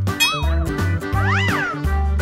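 A cat meows several times in short, rising and falling calls over steady background music.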